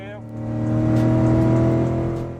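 A BMW E30 Touring engine pulls hard in 4th gear, a loud, close tonal drone that rises in pitch, swells to a peak and then eases slightly, heard from inside the car.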